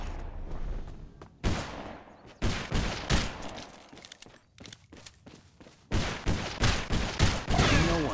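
Rapid bursts of gunfire from the video game RideOut Heroes, loud close volleys of sharp shots in irregular clusters with brief gaps, no talk.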